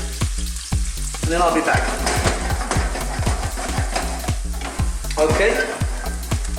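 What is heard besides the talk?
onions frying on high heat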